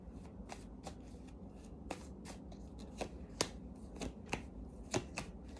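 A deck of tarot cards is shuffled by hand in a quiet room, making a series of crisp riffling snaps and soft card slides, close and fairly faint, with no talk.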